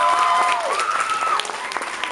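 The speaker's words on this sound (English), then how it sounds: "I just want to give a round of applause to the birthday girl, Kelsey." An audience applauds for a birthday girl, a brief burst of clapping from a small crowd that gradually thins out, with some voices over it.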